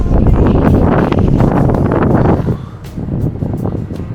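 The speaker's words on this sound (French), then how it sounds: "Avec un vent à décorner les bleus." Strong wind roars over the hills of Soustelle during a long-range DJI Avata 2 FPV drone flight, a loud, broadband buffeting rush that eases after about two and a half seconds.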